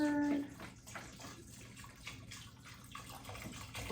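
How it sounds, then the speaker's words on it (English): Liquid pours into a pot of northern bean and hominy soup with a steady, continuous splash and gurgle, starting with a brief tone and staying at a moderate level throughout. "So I'm pouring in more to make sure that it stays covered."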